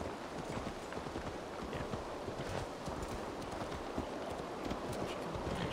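Horse hooves clip-clop steadily on the ground in Assassin's Creed Valhalla, a continuous trotting rhythm over faint wind, with a brief spoken word from a person.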